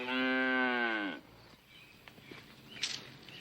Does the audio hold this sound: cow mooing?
yes